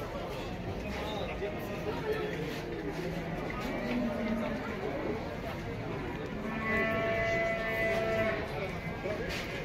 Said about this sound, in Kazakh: Ақ бас сиыр бар.